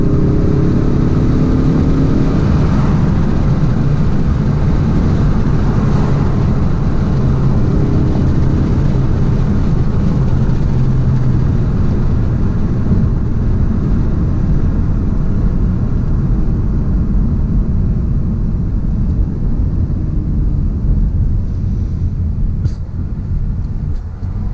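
A 2017 Ford Mustang EcoBoost Premium on a quick spin, with its engine droning loudly and steadily from inside the cabin as it accelerates, a continuous low roar with road noise for the whole stretch and no talking.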